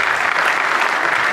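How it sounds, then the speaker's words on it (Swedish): Loud, dense applause from an audience at a Rotary concert, a continuous wash of many hands clapping at once with no talking over it. "applåd"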